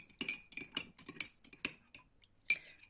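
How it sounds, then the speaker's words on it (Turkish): A spoon clinks and scrapes against a glass while stirring yeast and aspirin into water, a run of light, close metallic taps in quick irregular bursts with a pause before a final clear ring. "Güzelce karıştırıyorum."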